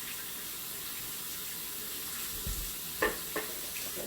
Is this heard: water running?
yes